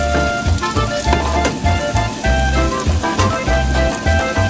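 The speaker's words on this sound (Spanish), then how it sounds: "Entonces vamos a estar friendo con aceite." Cassava pieces fry in oil for a pork chicharrón with yuca dish, giving a loud, continuous sizzle with crackling bursts and no voices over it.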